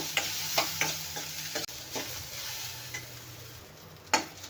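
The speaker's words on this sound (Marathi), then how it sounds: "इथे मी एक छोटा कांदा कापून तेलात छान भाजून घेणार आहे गोल्डन होईपर्यंत" A small chopped onion fries in hot oil, a close steady sizzle with several sharp scrapes and taps of a spatula stirring against the pan, no speech.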